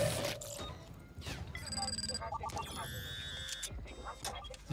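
Telephone ringing inside the Warzone battle royale game, a bright repeating electronic ring in short sustained bursts over busy game noise and muffled impacts.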